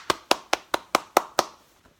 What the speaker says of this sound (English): Now, clapping hands,